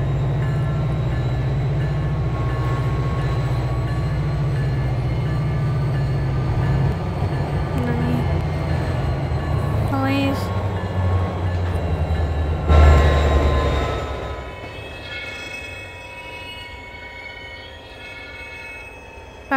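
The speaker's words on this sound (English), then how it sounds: "I like the brake squeal." Union Pacific locomotive 1989 heading a stack train in the game Trainz Driver 2, with a loud rumbling cab and rolling wheels as thin brake squeals rise, then a heavy clunk and the noise fading as the train slows.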